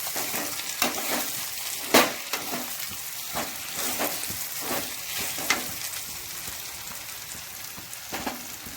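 Okra sabzi with a burnt coating fries in a pan in a village kitchen, a steady close sizzle broken by repeated scraping stirs of the spoon, with no talking.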